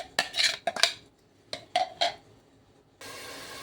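Finely chopped onions stirred in a pan for stuffed chicken, giving several sharp scraping clatters of a utensil against metal in quick bursts, then a steady soft hiss of heating toward the end.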